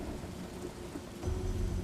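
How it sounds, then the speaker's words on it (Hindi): Thunder rumbles low during steady rain, the rumble swelling near the end of the short burst with constant rain hiss beneath. "अचानक बिजली कड़की"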